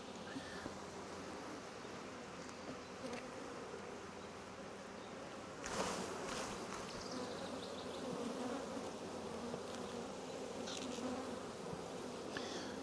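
A steady, dense hum of many honeybees buzzing around an open hive fills the air throughout, with a few faint rustles and knocks.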